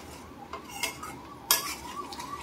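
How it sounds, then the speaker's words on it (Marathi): A spoon stirs a pot of prawn curry, scraping and clinking against the metal in a few short strokes over a faint simmering background. "आणि आता हे सर्व पुन्हा ढवळते"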